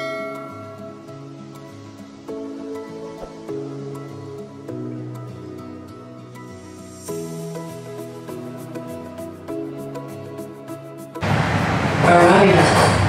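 Steady rumble and whine of a Toronto subway train riding along, with tonal motor hum shifting pitch, then a louder burst of rushing noise near the end.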